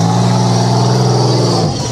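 A Toyota Hilux engine holds a loud, steady, close drone with strong low harmonics while climbing rocks off-road at Cliffhanger 2025, Mickey Thompson Rocks, then dips slightly at the end.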